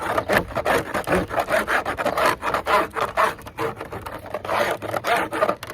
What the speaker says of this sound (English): We're going to start with this frame. It's got, looks like old pollen and stuff in it. I'm going to scrape it down.